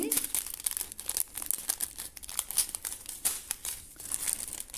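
Plastic packaging of a diamond painting kit is torn and crinkled open nearby, a busy stream of crackling rustles and small snaps at a fairly soft level.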